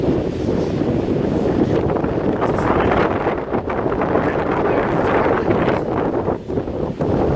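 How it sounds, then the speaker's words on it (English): Strong wind, about force 5, roars through a small tunnel at the bow of the Queen Mary 2 and buffets a nearby microphone continuously, with gusty surges and no one speaking. "It's quite windy here because it's flowing through the little tunnel."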